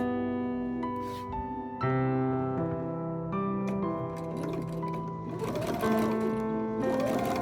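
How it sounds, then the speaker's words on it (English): A sewing machine runs continuously along curtain fabric, a steady motor hum with rhythmic needle clatter that swells louder partway through, and no talking. "I'm sewing just to where the folded edges meet, and then I pivot and keep sewing."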